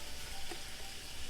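Onion dropped into a hot pan gives a steady, close sizzle, with a soft burst as it lands and no voices.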